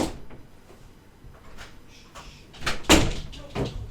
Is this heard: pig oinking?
no